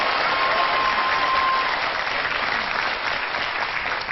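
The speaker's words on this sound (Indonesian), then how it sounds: "Boleh tepuk tangan lagi untuk Fadli" Sustained, dense applause from a television talent-show studio audience for contestant Fadli, loud and steady throughout with no talk over it.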